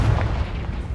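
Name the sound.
Confringo blasting spell in video game Hogwarts Legacy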